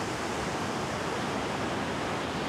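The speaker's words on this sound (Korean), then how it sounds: "파도와 새가 끊임없이 드나드는 바위는 문무왕이 잠든 대왕암입니다." Sea waves breaking against the rocks of Daewangam, the offshore rock tomb off Bonggil beach in Korea; a steady, dense roar of surf and spray, loud and continuous with no talk.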